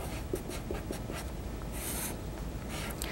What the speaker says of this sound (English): let's copy those onto another piece of paper